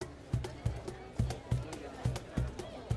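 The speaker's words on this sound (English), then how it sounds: "So this is what the city sounds like." City ambience built in FMod: a regular thumping drum beat repeating about every half second over a low murmuring crowd, drums prominent and close.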